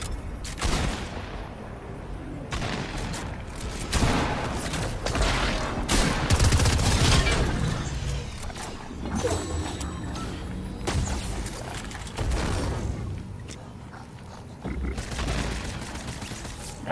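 Bursts of gunfire ring out in a Fortnite match, with repeated volleys and single shots spread across the clip, loud and close over a busy game background.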